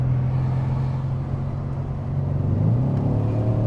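A Mercedes-AMG C63 engine drones steadily up close, then climbs in pitch as the car accelerates hard, a deep, continuous rumble with no talking over it.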